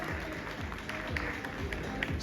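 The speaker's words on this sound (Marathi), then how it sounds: "एकदा टाळ्या तुमच्या टाळ्या सोबत असू देत" Audience at a school principals' meeting in Kolhapur applauding, a steady wash of many hands clapping at moderate distance throughout, with scattered louder claps standing out.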